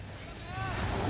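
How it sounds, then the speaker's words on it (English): Rough sea waves rolling onto a beach at Barahona, a steady broadband wash with wind noise on the microphone, close and fairly loud and building slightly toward the end. "Notice the waves are rougher"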